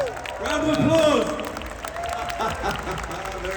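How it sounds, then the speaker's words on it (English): An audience at a vegan camp-out event gives a short burst of applause, with scattered clapping mixed with voices and crowd murmur over a few seconds. "Round of applause."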